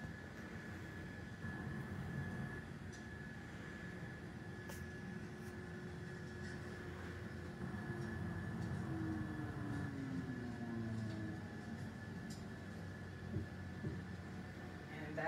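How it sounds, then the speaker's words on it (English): An aircraft's engines at takeoff power during the roll down the runway, a steady, moderately loud whine and rumble that swells slightly as speed builds, heard from inside with no talk. "And we are on our takeoff roll, engines powered up"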